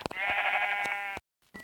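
A Minecraft sheep bleats once in a long wavering tone, close and clear, with faint clicks around it and a short blip after a pause.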